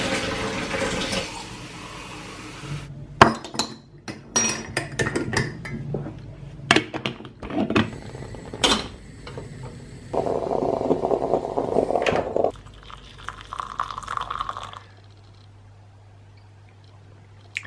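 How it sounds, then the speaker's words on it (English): Coffee brewing in a home stovetop moka pot, with scattered clinks and taps of metal and crockery, a burst of rushing, gurgling water sound, then a quieter steady hiss as it settles; no talking. "Now, I always use this mocha pot at home."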